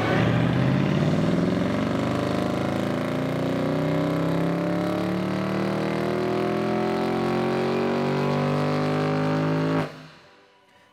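BMW N63TU3 V8 with a BM3 stage 2 tune and E30 fuel blend, run on a dyno: a loud, steady full-throttle pull whose engine pitch climbs continuously for about ten seconds, then cuts off abruptly into a fading wind-down.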